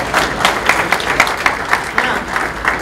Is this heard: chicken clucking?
no